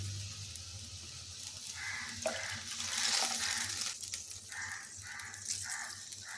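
Tamarind water is poured into a cooking pot, making a soft, continuous close splashing with light rattling that swells in the middle of the pour. No one speaks.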